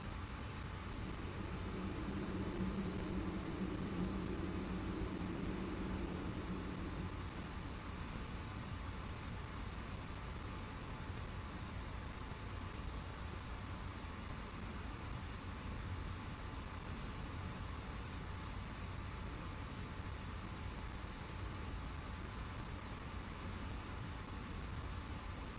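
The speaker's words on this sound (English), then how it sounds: "I think I heard a jet." A jet aircraft in the DCS combat flight game drones steadily from a distance with a broad, continuous roar, and a low rumble swells briefly near the start.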